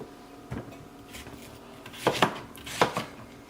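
A knife chops a quarter of an onion on a cutting board, giving a few sharp, close thuds spaced apart, a pair near the end, with no talking.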